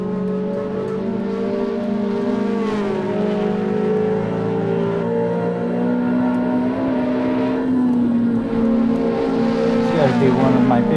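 Ferrari 360 engine in a racing simulator game lapping the Nürburgring Nordschleife, droning loud and continuous with rising and falling pitch through gear changes and revving, with talk over it throughout.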